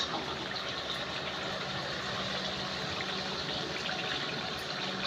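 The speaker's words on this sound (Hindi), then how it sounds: "अब हम इसमें पानी ऐड करेंगे।" Water pours steadily from a glass into a cooking pan of chicken liver and spices in a continuous, even splash and gush, fairly close and loud, with no talking.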